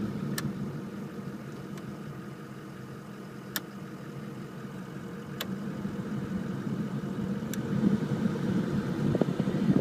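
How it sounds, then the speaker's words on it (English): A car's air conditioning blower fan runs steadily, producing a constant airy rush with a low mechanical hum underneath and a few faint clicks, heard close up and growing slightly stronger toward the end. "So at some point it's going to need another blower fan, but it's blowing ice cold"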